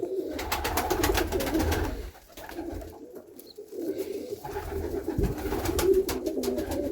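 Pigeon chicks in a cold loft cooing and peeping, soft repeated calls with bursts of rapid chirps, close and fairly quiet.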